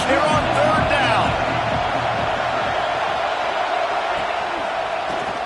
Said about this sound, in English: This Auburn crowd trying to conjure up a little magic here on third down.